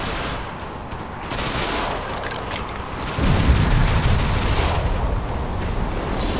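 Continuous gunfire and explosions roar in Ghost Recon Phantoms, a dense, loud clatter of automatic shots that swells heavier partway through and keeps going throughout.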